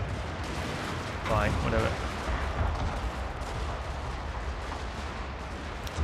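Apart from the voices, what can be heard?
cannon fire in video game Shogun 2 Fall of the Samurai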